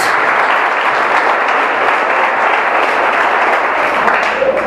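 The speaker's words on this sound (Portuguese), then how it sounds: "Som de palmas para o Senhor" A church congregation claps for the Lord in a dense, sustained wash of applause that holds at an even, loud level with no break.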